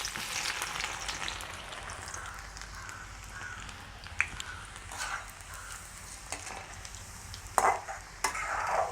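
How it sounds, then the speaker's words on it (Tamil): Garlic fries in hot oil for a bitter gourd sambal, a crackling sizzle with stirring clatter and a few sharp utensil knocks near the end, heard alone. "நாங்கள் உள்ளியை பொரிச்சு கொள்வோம்"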